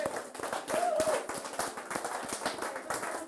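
Rhythmic clapping by a church congregation during a Sunday service, steady repeated claps carrying through the whole stretch, with voices and speech mixed in among them.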